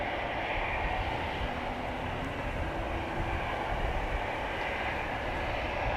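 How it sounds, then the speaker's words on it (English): An Air Arabia Maroc airliner taxiing at Amsterdam Schiphol toward the runway threshold gives off a steady, broad engine roar that holds constant throughout, heard from some distance with no voices. "Air Arabia Maroc doing the zigzag zig to reach the threshold of runway 18 left."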